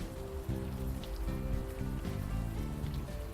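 Steady rain falls at night on a Brooklyn street in the video game Unavowed. Its hiss and patter run on without a break under soft tonal background music.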